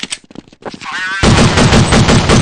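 Rapid automatic gunfire in Counter-Strike 1.6, a loud dense burst of shots that starts abruptly after brief game noises and a short radio-style voice line.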